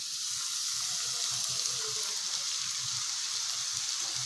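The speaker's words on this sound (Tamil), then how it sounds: "நல்லா ஸ்டவ்வை லோ ஃப்ளேம்லேயே வச்சுட்டு ஒரு 2 நிமிஷத்துக்கு நல்லா கிளறி விட்டுக்கலாம்." Onions and ground masala frying slowly in a pan on a low flame for curd chutney, a quiet, even hiss with soft rhythmic stirring thumps underneath.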